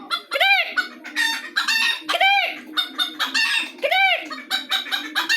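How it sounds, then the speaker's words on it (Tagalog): A pet chicken clucks and crows repeatedly in loud, close, rhythmic bursts, with harmonic calls recurring about every second and a half and no one talking over them. "may papakita ko sa inyo yung alaga kong chicken"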